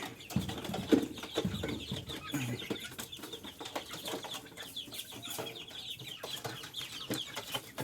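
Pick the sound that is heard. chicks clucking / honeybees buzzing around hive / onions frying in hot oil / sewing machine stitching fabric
chicks clucking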